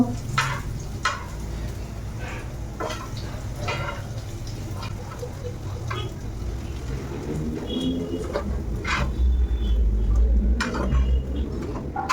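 Fritters (bora) frying in a pan over a home stove, a continuous sizzle with clinks and scraping from a utensil stirring the pan, close and steady.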